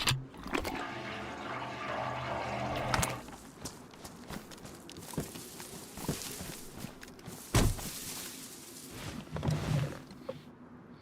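Water filling a container in the survival video game DayZ, a rushing, splashing pour for the first few seconds, then scattered clunks and footstep-like knocks in a quiet room.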